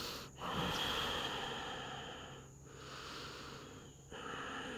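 Slow, deep breaths during a yoga morning warm-up, long close airy inhales and exhales flowing into one another, with short pauses between them.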